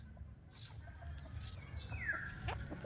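Fighting roosters on a farm in Batangas City give a short, fairly faint call with scattered clucks over low outdoor ambience, no talk.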